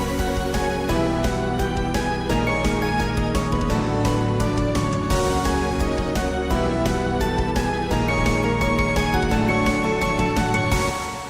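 An original orchestral section from the remaster plays loud and continuous, with dense sustained strings and layered melody over steady low accompaniment and regular accented hits throughout.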